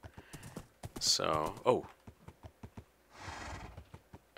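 Horse hooves clopping in Minecraft, a quick run of hollow clip-clop beats with a brief neigh, partly under a man's speech and light keyboard clicks.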